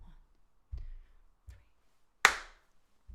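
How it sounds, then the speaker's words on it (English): A single sharp hand clap lands on the fourth beat of a counted bar in a sing-along session, close and bright against near silence, with soft low thuds marking the other beats around it. "Now clap on the 4"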